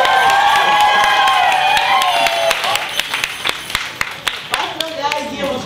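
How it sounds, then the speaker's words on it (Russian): Crowd applause and cheering from an audience voting for a team at a Tribal Weekend 2016 game, dense clapping with shouts that thins out into scattered individual claps toward the end. "И команда без ноги. Аплодисменты"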